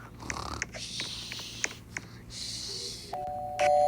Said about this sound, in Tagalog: Bakit may nag-doorbell pa?